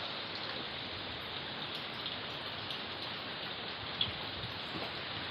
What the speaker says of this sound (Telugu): వాన కూడా పడుతుంది